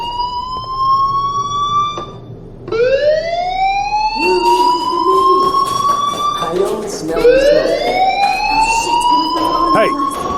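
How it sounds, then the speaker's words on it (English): Fire alarm in the 2015 video game Life Is Strange wailing as a rising and falling siren, loud and close, cycling several times while a person speaks over it. "do you hear that fire alarm?"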